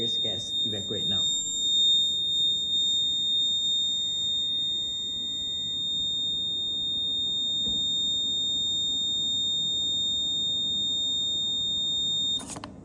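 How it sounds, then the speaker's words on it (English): A gas detector buzzer alarm in a smart school safety circuit sounds a steady, piercing high electronic tone that holds without a break for about twelve seconds, with some low handling noise at the start. "buzzer will be triggered"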